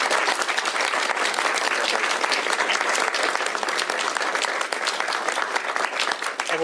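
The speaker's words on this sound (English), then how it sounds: "let's give Representative Gregerson and all of yourselves a big round of applause" A big round of applause from the audience at a Washington State Right to Repair bill signing, dense and loud, sustained evenly without letup, no voices standing out.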